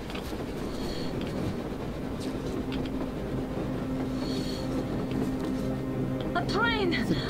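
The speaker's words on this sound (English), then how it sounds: "A train on the surface." A train rumbles past on the surface in the video game Metro Exodus, a continuous low rolling clatter with squealing tones near the end, heard under steady background noise and occasional talk.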